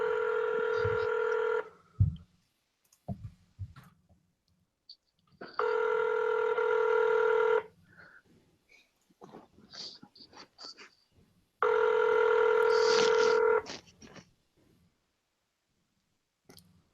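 Three bursts of touch-tone dialing beeps, each about two seconds long, with short clicks and faint rustling between them, heard close and alone with no talking, like a phone call being placed.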